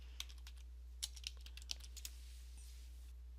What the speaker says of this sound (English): I'm just going to type in kitchen sink